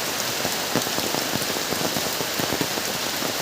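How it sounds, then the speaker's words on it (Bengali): Heavy rain pours onto a village pond in the countryside, a dense, close patter of countless drops with scattered louder splashes over a constant wash of hiss, no voices. "আমার পিছের পুকুরে, আমাদের পুকুরে বৃষ্টি পড়তেছে।"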